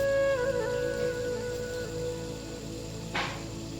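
Taler bora, palm fruit fritters, fry in hot oil with a soft, continuous crackle and sizzle like light rain, quiet and close, without talk.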